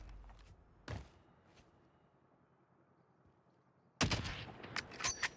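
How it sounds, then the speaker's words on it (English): Gunfire in Call of Duty Warzone: a lone sharp shot early, a quiet pause, then a loud cluster of rapid shots and impacts closing out the moment. "Getting shot from left side."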